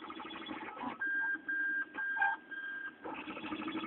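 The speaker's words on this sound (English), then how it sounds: "I will show you a small video of me 3D printing." A 3D printer with a steel frame and an all-metal extruder runs with tonal stepper-motor whines in short bursts over a constant mechanical hum, moderately close and without talking.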